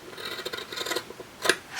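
Fabric scissors cutting through fabric scraps, a run of close, quick rasping snips ending in one sharper cut.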